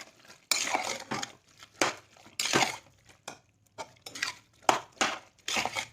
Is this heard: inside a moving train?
no